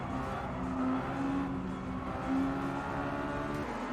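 Mazda MX-5 race car from Gran Turismo 7 at Tsukuba, its engine droning steadily at high revs with slight rises and dips in pitch, loud and close throughout with no talk.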